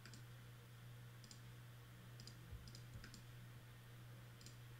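Computer mouse clicks while clips are selected and right-clicked in Ableton Live: a handful of faint, sparse clicks scattered over a steady low electrical hum.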